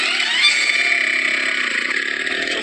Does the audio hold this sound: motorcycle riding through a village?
yes